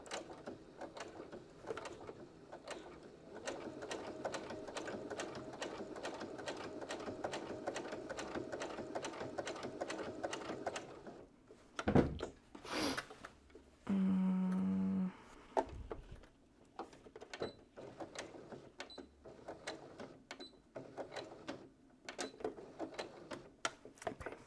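A sewing machine stitches shorts in a steady, dense mechanical whir for about ten seconds, then stops and starts in short bursts with clicks and a brief hum, close by and with no talking.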